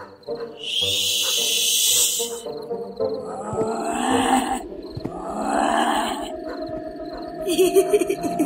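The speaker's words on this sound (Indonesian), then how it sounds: "Dasar burung hantu gak tahu aturan." Owl hooting in a horror cartoon, with eerie, drawn-out calls rising and falling over a bed of spooky music and effects, fairly loud and sustained across the scene.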